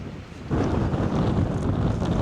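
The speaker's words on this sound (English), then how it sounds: "I can deal with rain. I can deal with snow. I can deal with sunshine and heat and cold. But wind sucks." Wind gusts across a lake during kayak fishing, a rough, steady rumbling buffet that swells after a brief lull and stays loud and close to the microphone.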